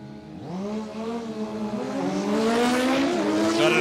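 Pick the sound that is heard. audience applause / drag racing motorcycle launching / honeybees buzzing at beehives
drag racing motorcycle launching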